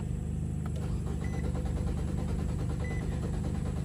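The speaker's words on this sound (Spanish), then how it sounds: "vamos a darle marcha" A 2018 Nissan Sentra with about 35,000 miles cranks without starting, the starter motor churning in a steady rapid pulsing rhythm, close and uninterrupted for several seconds.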